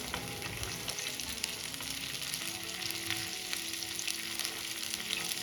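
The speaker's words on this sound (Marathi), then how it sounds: "टोमॅटो पण आपल्याला छान सॉफ्ट होईपर्यंत परतून घ्यायचं आहे कांद्यासोबत" Onions and tomatoes sauté in a pan for Kolhapuri misal pav, giving a steady, soft, continuous sizzle with faint stirring scrapes and no talking.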